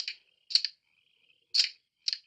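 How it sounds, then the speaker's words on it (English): Sharp metallic clicks from a German soldier's rifle being reloaded in a war film, four brief separate clicks, some doubled, with short silent gaps between them, crisp and close. "It's the sound of a German reloading their rifle."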